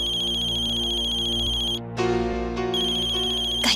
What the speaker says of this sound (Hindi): गायत्री बहन का फोन है।